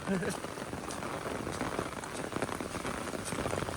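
Heavy rain pours down steadily on the Appalachian Trail, a dense hiss of drops drumming on surfaces, loud and continuous throughout.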